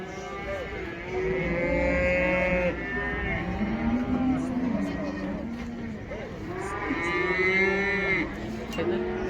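Cattle lowing at a livestock market in Taraz, with several long, loud moos rising and falling close by over a steady background murmur of market noise.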